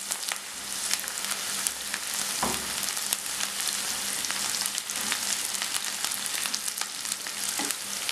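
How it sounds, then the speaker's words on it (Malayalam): Ginger and garlic sautéing in a pan for a Kerala-style bilimbi pickle, a steady close sizzle with crackling pops and occasional stirring thuds, continuous throughout and free of talk. "ഇഞ്ചി വെളുത്തുള്ളിയൊക്കെ നന്നായിട്ട് വഴറ്റിയെടുക്കണം"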